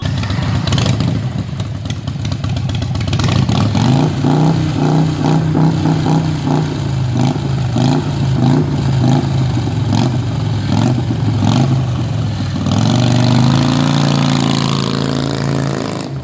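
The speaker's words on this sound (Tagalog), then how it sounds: "Ang specs ng Iron 883 ay 883cc na nagpo-produce ng measly 49 horsepower and 54 Nm of torque. Take a listen." Harley-Davidson Iron 883, an 883cc V-twin, idles with a loud, lumpy throb, then revs in repeated blips that rise and fall before settling into a deeper, steadier rumble, close up and alone.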